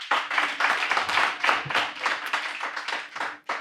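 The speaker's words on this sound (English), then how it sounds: "Give them a round of applause, please." A small audience claps for a podcast's audio crew, distinct hand claps coming in quick irregular bursts for almost four seconds, close and moderately loud.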